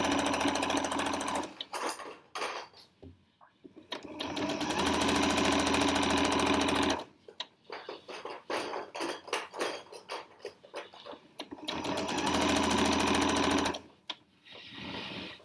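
A sewing machine stitches binding onto a quilt in two long, even whirring runs, split by a short stretch of slower stop-start stitching and soft handling of fabric.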